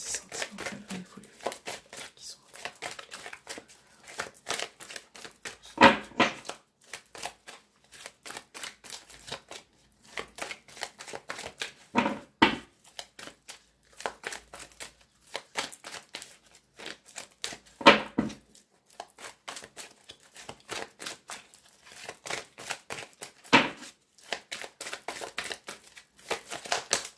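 Tarot cards are shuffled over and over, a dense run of crisp riffling and slapping with a few louder card snaps at regular intervals, close and quiet throughout.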